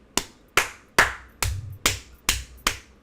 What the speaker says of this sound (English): we only heard 1 set of hand claps